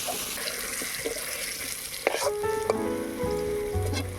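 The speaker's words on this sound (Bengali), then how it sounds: "এবারে আলুটাকে ভালো করে ভেজে নেব।" Potatoes seasoned with turmeric fry in a pan with a steady, moderate sizzle, joined midway by scraping stirs and faint clinks.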